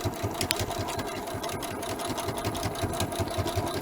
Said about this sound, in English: I'm sewing the tape closed as I lead up to my first flag